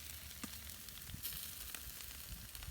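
Jerk-seasoned chicken sizzles and crackles in a pan during cooking, a steady close frying hiss with scattered small pops and no talking.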